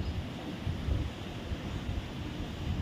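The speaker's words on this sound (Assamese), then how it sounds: "এইফালে চাওকচোন, ইমান ধুনীয়া বতাহ দি আছে" Wind blowing outdoors, rumbling against the microphone in soft gusts with a steady low roar.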